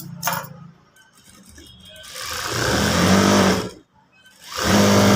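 A sewing machine stitches a boat neck blouse in two loud, continuous runs, a longer burst followed by a short pause and a second burst.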